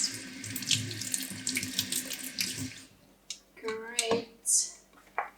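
Water from a sink faucet runs steadily over the parts of a DNA slow juicer being rinsed, with a broad hiss at first, then breaking up into splashes and clatter as the flow changes. Someone speaks briefly.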